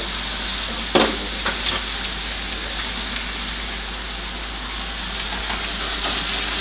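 Hamburger patties hit a hot pan with a sudden bright sizzle, then settle into a steady, close, even frying hiss with a few faint pops and scrapes.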